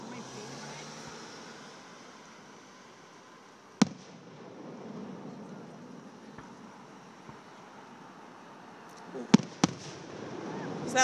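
Fireworks bursting over a lake at a public display: a sharp report near 4 seconds, then a cluster of louder bangs around 9 to 10 seconds, over steady crowd murmur and a broad low rumble.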